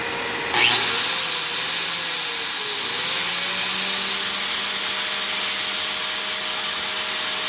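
Small mini-mill spindle spinning a grinding bit at 500 RPM with vacuum suction running, a steady loud whine and broadband whoosh that starts abruptly and holds, pitch wavering slightly early on, alone without talk.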